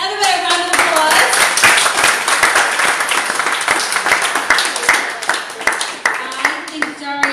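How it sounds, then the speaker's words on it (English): An event audience breaks into a round of applause, many hands clapping loudly and close, with a voice speaking over the start and the clapping gradually thinning toward the end. "Give everybody a round of applause."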